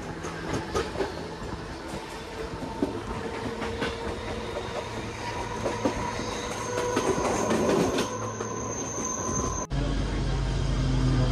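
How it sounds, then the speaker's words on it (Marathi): Suburban train pulling out of the long Kurla station platform in Mumbai, rolling steadily with rhythmic wheel clatter and rail rumble throughout, loud and close, then a sudden shift to a deeper, steady rumble near the end. "कुर्लामधून ट्रेन रवाना होते"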